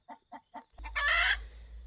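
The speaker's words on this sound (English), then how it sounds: "Come out, you silly chicken." A chicken shut in its cage makes three short, evenly spaced clucks, then lets out a louder, drawn-out squawk over a low background hum, close by.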